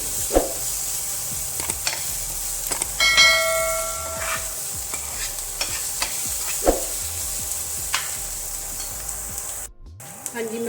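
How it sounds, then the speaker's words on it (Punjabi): Masala with green chillies frying in a pan, a soft continuous sizzle broken by occasional sharp spoon clinks and scrapes against the metal, close up. "ਇਹਨਾਂ ਨੂੰ ਵੀ ਨਾਲ ਹੀ ਫਰਾਈ ਕਰਾਂਗੇ ਭੁੰਨ ਲਵਾਂਗੇ ਅੱਧਾ ਹਰੀਆਂ ਮਿਰਚਾਂ ਇਹ ਮਸਾਲੇ ਨੂੰ ਆਪਾਂ ਚੰਗੀ ਤਰ੍ਹਾਂ ਭੁੰਨਾਂਗੇ"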